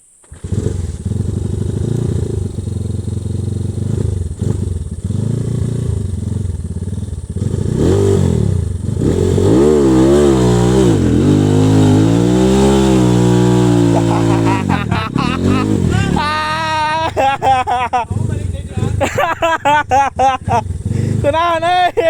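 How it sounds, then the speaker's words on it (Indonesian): An old, rusty Honda GL motorcycle revs loudly and steadily while backing up, engine pitch rising and falling through repeated throttle blips, with people talking over it. "Ieu mah emang beda motorna, digas mundur."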